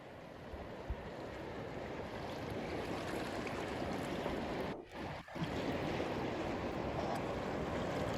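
Broadband rushing water noise, steady and fairly loud throughout, like a flowing river, with a brief dip near the middle and no talking.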